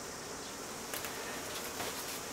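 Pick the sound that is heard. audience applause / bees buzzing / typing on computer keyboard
bees buzzing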